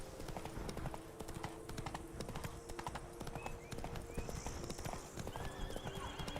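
Roach, Geralt's horse in The Witcher 3: Blood and Wine, trots with steady, close clip-clop hoofbeats that run throughout, a brief whinny near the middle and faint background ambience.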